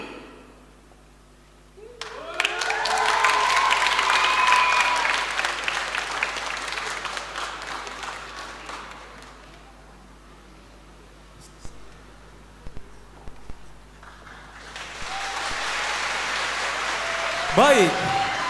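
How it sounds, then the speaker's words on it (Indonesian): An audience claps after a stage performance of the play Dilarang Menyanyi di Kamar Mandi, a burst of dense applause that fades and then returns, with a voice speaking between the rounds. "beri tepuk tangan yang meriah untuk pameran Dilarang Menyanyi di Kamar Mandi"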